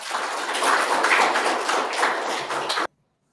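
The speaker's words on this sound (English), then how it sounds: "A big round of applause for him," At a fintech meetup, an audience breaks into dense, steady applause that holds for nearly three seconds, then cuts off abruptly into silence.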